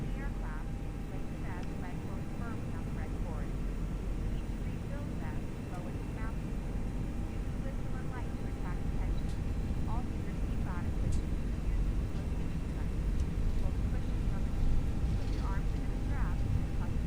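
An Airbus A321 in a flight simulator holds a steady, droning engine roar on the runway before takeoff, with faint radio voices and clicks over it.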